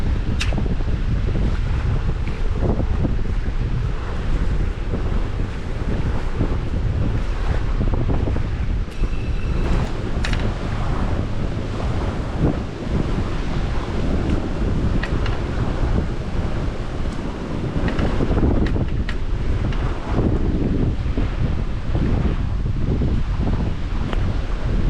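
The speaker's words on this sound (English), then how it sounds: "The wind does not help." Steady, loud wind buffets the microphone outdoors at a lakeside camp cookout where venison taco meat is being seasoned, a continuous low roar with gusts and no pause.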